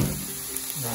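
Onion gently sautéing in a pan for sweet farofa, a soft steady sizzle running through the whole moment with faint clinks, close by and fairly quiet.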